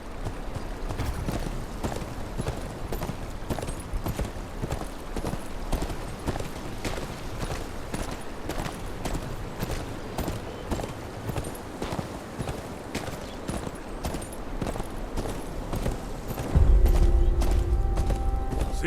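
Horse hooves clip-clopping at a steady riding pace along the Kingsroad in the Game of Thrones Kingsroad video game, a quiet, even rhythmic beat that continues throughout, with a louder thud near the end.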